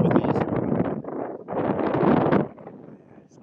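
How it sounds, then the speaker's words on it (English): Loud gusts of wind buffet a phone microphone in rough, rumbling bursts that swell and drop, with a brief lull in the middle, at Biddulph Grange country park. "It's quite windy"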